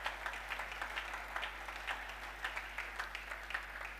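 A church congregation applauds and cheers in steady, rhythmic clapping, heard at moderate distance and filling the space without a break.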